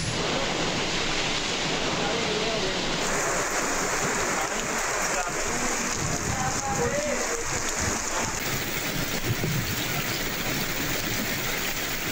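Steady rain falls as a broad, constant hiss with no breaks, loud and even, under a news broadcast in which a presenter speaks.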